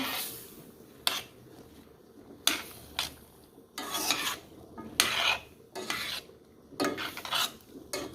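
A spoon stirs washed pumpkin into a stew pot, making about eight close rasping scrapes against the metal in irregular bursts over quiet background, with no talking.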